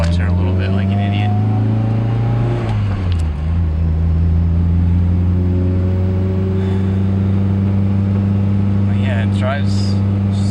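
Mitsubishi Evo with a 2.4L engine, FF 6466 turbo and E85 fuel driving at steady speed, a loud continuous engine drone climbing in pitch after a gear change, with brief voices near the end.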